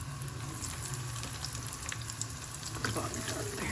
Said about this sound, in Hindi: ऑयल गर्म हो गया है, बबल्स बनने शुरू हो गए हैं।